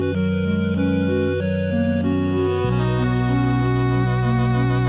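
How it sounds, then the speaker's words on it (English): A synthesized clarinet-like melody plays a solo line, then a reedier saxophone-like tone takes over midway, continuing the tune over a steady backing. "like kind of a clarinet letting off and like a saxophone or something kind of taking over the solo here"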